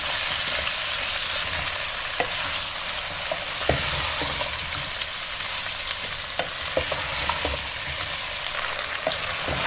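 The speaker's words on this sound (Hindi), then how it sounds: "आलू फ्राई प्याज में डाल के इसको अच्छी तरह से 5 मिनट तक मैंने हाई फ्लेम पे इसको फ्राई कर लिया है" Potatoes and onions fry on a high flame for potato bhujia, giving a loud, steady close-up sizzle with occasional sharp clicks and scrapes of stirring.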